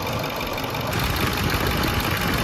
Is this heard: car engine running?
yes